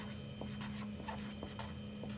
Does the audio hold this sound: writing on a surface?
yes